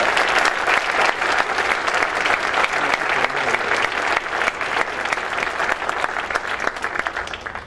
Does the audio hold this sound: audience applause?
yes